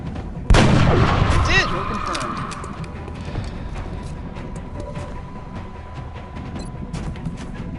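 A single loud gunshot from a headshot in the turn-based alien strategy game XCOM: Enemy Within, with a sharp blast and a ringing metallic tail, followed by quieter game effects and faint clicks.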